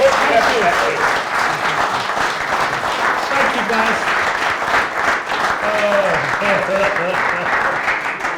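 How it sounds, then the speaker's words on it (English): A comedy club audience at a stand-up show breaks into loud, sustained applause filling the room, with someone briefly speaking over the clapping. "can we have a round of applause"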